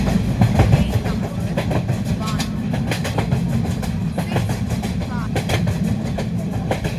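An Indian Railways train runs between Surat and Vadodara, its steady low rumble carrying a rhythmic clickety-clack of wheels over rail joints, close and continuous, with faint muffled voices in the carriage.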